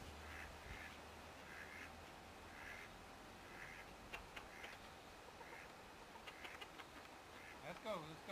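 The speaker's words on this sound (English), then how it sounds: "The ducks are getting impatient." Ducks quack in faint, repeated calls, rising and falling at a distance in an evening outdoor setting by water, with low background noise and a few louder sounds near the end.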